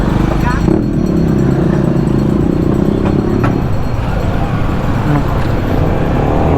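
Yamaha Sniper 155R motorcycle ridden through heavy traffic, its engine droning low and steady close by, surrounded by surrounding car and road noise, with someone talking over it throughout.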